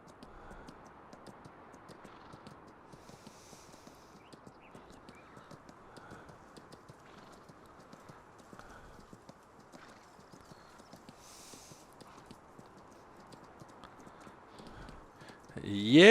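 Horse hooves clip-clopping in the Farm Simulator video game, a steady brisk rhythm of light hoof taps at moderate distance, fairly faint, ending with a louder burst of sound.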